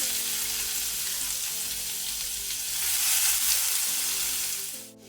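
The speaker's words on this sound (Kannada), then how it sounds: "ಈರುಳ್ಳಿಯನ್ನು ಫ್ರೈ ಮಾಡ್ಕೊಳ್ಳುವ." Finely chopped onion frying in hot oil with garlic for a Bengali potato and clam dish, a loud continuous close sizzle swelling midway before fading near the end.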